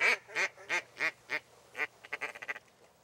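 Ducks over a marsh on Lake St. Clair quack in a clear series of evenly spaced calls, then a quicker run of shorter quacks, moderately close with no voices.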